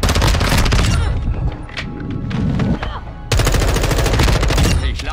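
MP7 submachine gun in Modern Warfare 2 firing rapid automatic bursts: loud sustained fire, a brief lull with scattered thumps, then another long burst.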